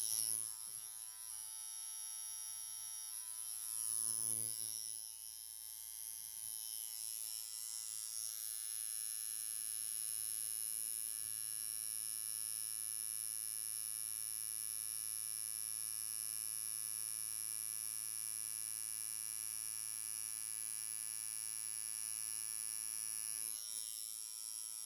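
A tattoo machine lines a lily design in a tattoo workshop, giving a steady close electric buzz with a high whine that runs almost unbroken through the whole stretch, with no talking.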